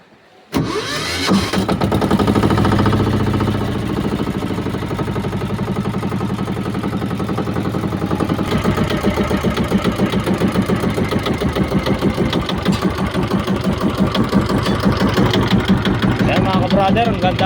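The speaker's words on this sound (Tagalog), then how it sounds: "Tapos paandarin natin kung maganda ang setup talaga niya." A boat's engine starts up with a sharp onset and then settles into a loud, steady idle with a rapid, even mechanical rhythm that runs unbroken to the end.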